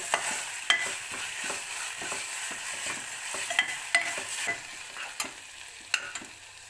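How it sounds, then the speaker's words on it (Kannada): Ginger garlic paste sizzles loudly in a hot pan for a mutton liver dish, a steady bright frying hiss broken by scraping stirs at irregular intervals, with no voices. "ಶುಂಠಿ ಬೆಳ್ಳುಳ್ಳಿ ಪೇಸ್ಟ್ ಹಾಕ್ತಿದ್ದೀನಿ. ಚೆನ್ನಾಗಿ ಅರೋಮಾ ಬರಬೇಕು, ಒಳ್ಳೆ ಫ್ರೈ ಆಗಬೇಕು."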